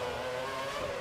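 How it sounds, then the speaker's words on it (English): An F1 car engine in the F1 2012 racing game, heard from a chase camera, a steady high-pitched whine that stays at an even level for a moment. "This actual camera gives you the sound of the engine as if you're watching from a chase cam"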